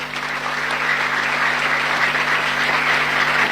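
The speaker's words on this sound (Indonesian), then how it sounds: "Tepuk tangan." Steady applause from an audience, a dense continuous patter of clapping that stays even and moderately loud throughout, with a low hum underneath.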